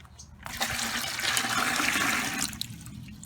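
Water being poured into a blender with food scraps for worm compost, starting after a short pause and building into a loud, steady gushing pour that tapers off near the end.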